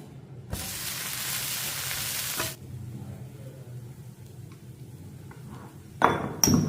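Thin batter hits hot oil in a pan for a loud two-second hiss, then sizzles softly for several seconds before a few sharp metallic clinks of a utensil near the end.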